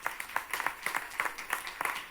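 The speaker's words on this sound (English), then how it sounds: "So another round of applause." A small audience claps at the close of a panel at a European cancer mission fair in Warsaw, heard as faint, sparse and uneven handclaps in a loose rhythm over a couple of seconds.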